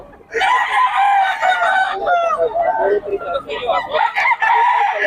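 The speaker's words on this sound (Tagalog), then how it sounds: "ang daming manok ngayon, mga boss" Roosters and chickens crowing loudly and close by on a Philippine gamefowl farm, several overlapping drawn-out crows filling the whole stretch with clucks in between, with faint talk underneath.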